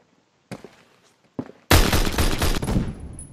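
Gunfire in the online shooter Phantom Forces, where a Mosin rifle is fired: two faint, short cracks come first, then a loud, dense burst of shots and blasts that carries on to the end.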